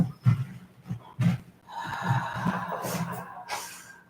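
Loud, deliberate breaths during beginner yoga practice, drawn in and pushed out through an open mouth, several close, airy inhales and exhales with soft huffs, with no talking.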